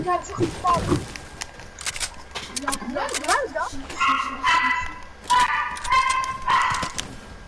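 A big dog barks several times in a video game, the sharp barks coming over steady game sounds while players talk throughout.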